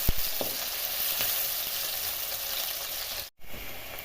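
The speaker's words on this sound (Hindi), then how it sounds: "ऑयल गर्म हो गया है और प्याज भी ऐड कर दी है। बस प्याज को सौते करना है।" Onions sauté in hot oil on a medium-low flame with a steady, close sizzle and a few stirring clicks. The sizzle briefly drops out near the end.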